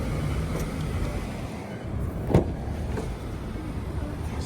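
A Mazda CX-9 with about 66,000 miles being unlocked: one short, sharp lock click stands out midway over a steady low background hum.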